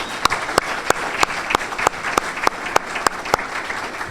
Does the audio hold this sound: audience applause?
yes